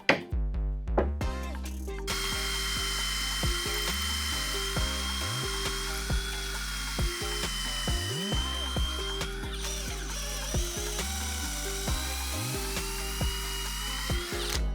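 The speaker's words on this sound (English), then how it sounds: "we're gonna use our handy dandy 5/16 drill bit to go all the way through." A power drill with a 5/16-inch bit whirs steadily, its pitch dipping and rising as it bores through wood, close up and continuous throughout.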